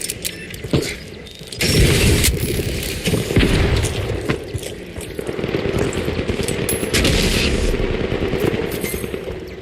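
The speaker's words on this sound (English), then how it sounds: "Frag grenade set. Throwing a frag!" Frag grenade and rapid gunfire in The Finals shooter game, with dense booming blasts and loud bursts of shots continuing for several seconds.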